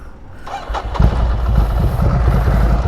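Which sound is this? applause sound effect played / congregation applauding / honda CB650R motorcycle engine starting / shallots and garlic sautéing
honda CB650R motorcycle engine starting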